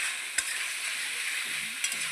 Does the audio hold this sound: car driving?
no